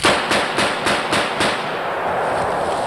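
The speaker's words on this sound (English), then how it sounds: "JD's shooting the 325 grain load, maximum load." A .44 Magnum revolver fired one-handed with maximum 325-grain loads: six sharp, loud gunshots in steady rapid succession, each with a brief echoing tail, then ringing room tone.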